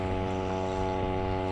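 A small, loud engine drones steadily, heard from a kayak on the water, with a buzzing, strongly tonal hum that stays constant and close.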